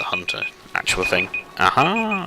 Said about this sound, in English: That is my alarm that I forgot to turn off